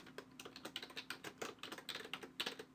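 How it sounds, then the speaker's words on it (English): Rapid, close keystrokes on a computer keyboard while a name is entered into a dialog box in the WebStorm code editor, clicks coming quickly in irregular bursts, with no voices. "I'm going to type in Karma Server."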